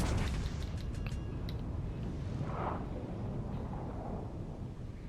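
Heavy naval guns fire a volley of high-explosive shells from HMS Conqueror in World of Warships Legends, a dense booming rumble with sharp cracks at the start that rolls on steadily.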